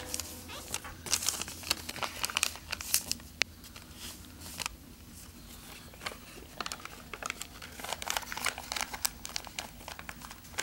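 Paper being folded into an origami box gives close, intermittent crinkling and creasing rustles in uneven bursts, with some faint talk in the background.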